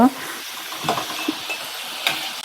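Farali kachori fry in hot oil and are turned: a steady, moderate sizzle with soft scraping and occasional light taps of a utensil against the pan.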